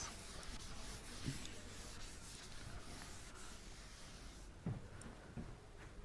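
Writing during a lecture on Bernoulli's equation, a faint continuous rubbing scratch of pen or chalk strokes under a steady background hiss, with a couple of soft taps.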